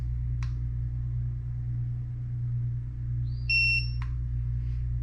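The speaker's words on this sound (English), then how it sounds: "Press and hold set until it beeps." A TST TPMS tire pressure monitor gives a short, faint pair of high electronic beeps near the end of the clip, set against a quiet room with a low steady hum and a couple of soft clicks.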